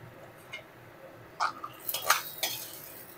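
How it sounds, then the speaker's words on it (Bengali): Fried lentil badi being lifted from a kadai into a bowl: a few light clinks and scrapes of a metal spoon against the pan, close and brief, after a quiet start. "এবারে আমি কড়া থেকে তুলে নেব, তুলে একটা বাটির মধ্যে রেখে দেব"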